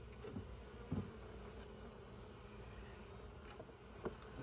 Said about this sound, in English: Lots of bees on the lid.